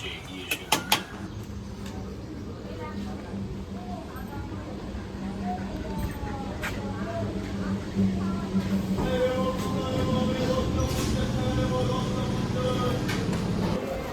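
A train rumbles into a station, giving a continuous low rolling noise with some clanks that grows a little louder toward the end, while someone talks over it.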